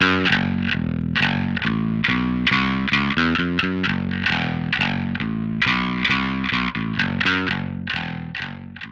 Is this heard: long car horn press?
no